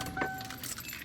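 Keys for a 1997 Lincoln Town Car Signature jangle in a short metallic burst, close and clear, with a bright ringing tone that fades over about a second.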